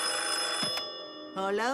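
A telephone rings in a cartoon scene with a bright, repeating electronic trill. The ringing stops as a voice answers and then resumes briefly.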